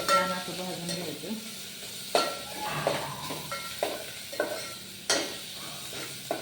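Turmeric and coriander roasting in hot oil for a dal tadka, a continuous close sizzle broken by repeated sharp spoon scrapes and clinks against the pan.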